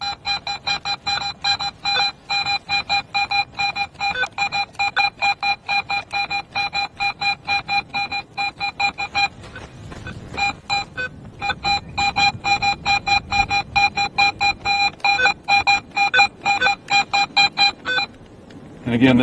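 A Garrett metal detector in pro mode emits a steady train of rapid electronic beeping target tones, pulsing rhythmically and clearly, with a brief break midway and faint handling noise underneath.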